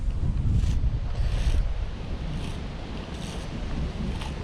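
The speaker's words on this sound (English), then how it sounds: "It sounds like it's only gotten windier, so I'm not excited about it." Strong wind gusts over a lake around a bass boat, a loud continuous rushing roar with microphone buffeting and faint water slapping, no voices.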